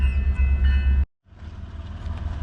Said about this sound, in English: we interrupted by the train now